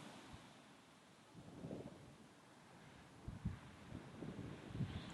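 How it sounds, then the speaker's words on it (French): Desert wind blowing steadily across open ground, a low broadband rush with gusts swelling and buffeting the microphone, alone with no voices. "il y a du vent, ça souffle"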